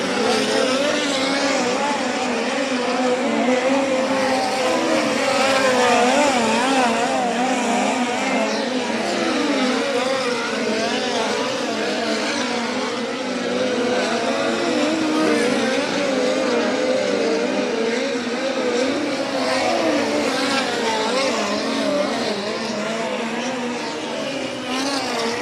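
Race cars roar around the Angell Park track during a USAC qualifying session, a loud, continuous engine drone with shifting pitch as cars circle, filling the whole stretch without a break.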